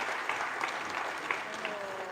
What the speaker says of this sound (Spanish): fuerte aplauso para Eva